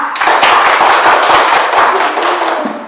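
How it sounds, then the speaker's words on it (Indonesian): A classroom group of schoolchildren clapping together, a dense burst of hand claps close and loud, then thinning and fading toward the end. "tepuk tangan untuk kita semua"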